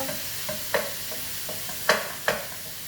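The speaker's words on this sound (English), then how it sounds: "I'm going to cook this until it's brown" Ground meat for a spaghetti squash bolognese cooking low in a pan, a quiet steady frying hiss broken by several sharp utensil scrapes and clacks as it is stirred.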